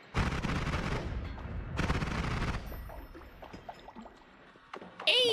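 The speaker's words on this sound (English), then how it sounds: "Like a minigun turret." A minigun turret fires in the video game Noita, two dense sustained bursts of rapid gunfire about a second each, followed by scattered smaller game effects and a rising tone at the end.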